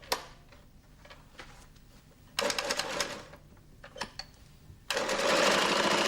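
A Flexorand Speedbinder carpet binding machine stitches Perlon velour tape at a mitre corner, sounding as two short bursts of rapid mechanical stitching separated by quiet handling clicks.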